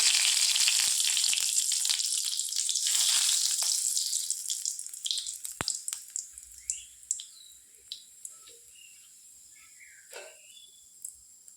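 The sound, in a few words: frying dried chili, nigella and fennel in mustard oil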